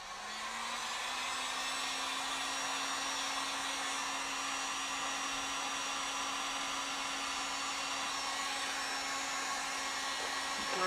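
A heat gun blows over a WoodUbend moulding on furniture with a loud, steady, airy whine. It holds one unbroken tone alone for about ten seconds.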